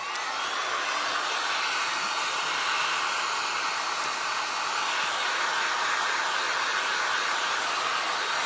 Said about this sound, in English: I think I'm gonna hit that with a dryer first